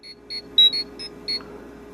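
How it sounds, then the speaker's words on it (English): Mighty Morphin Power Rangers Legacy Power Morpher communicator switching on, a short run of high electronic beeps in a quick uneven pattern, close and clear against a quiet background. "Yeah, that's the communicator sound."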